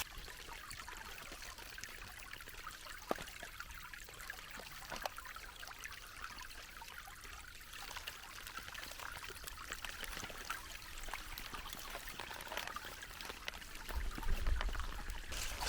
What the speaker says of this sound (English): Sweet little stream.